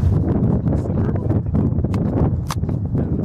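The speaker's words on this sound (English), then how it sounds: "Wind's starting to pick up again." Wind gusting outdoors on a hike, a steady broadband rush buffeting the microphone with low rumble throughout, a brief faint rustle near the end.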